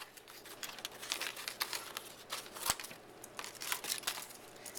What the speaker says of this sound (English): take my baby scissors, children's safety scissors, and cut this stuff up into random shapes